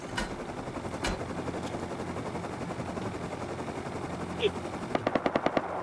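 Machine-gun fire in the video game Rust, with a few scattered shots early on, then a rapid burst of about six sharp, evenly spaced rounds near the end over a steady background rumble.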